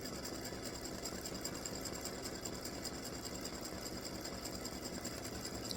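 An embroidery machine stitches a freestanding lace hibiscus flower earring with a continuous, even, rapid mechanical hum, steady and close for the whole stretch, with no voices.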